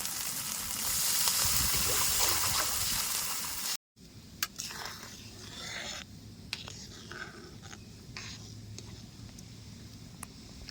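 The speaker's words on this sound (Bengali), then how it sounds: "এবারে জল দিয়ে দেবো" Water pours into a spiced curry with turmeric and masala cooked down in the pot, a loud rushing sizzle for a few seconds that cuts off, then a quieter simmer with light clinks.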